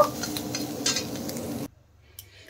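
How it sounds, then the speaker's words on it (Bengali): Fried vegetables stirred in a pan during navratna pulao cooking: sizzling with clinks of a utensil against the pan, then the sizzle stops abruptly as they come out, leaving near silence. "দেখেন সবজি ভাজা হয়ে গেছে। এখন আমি সবজিগুলো নামিয়ে সাইডে রেখে দেব।"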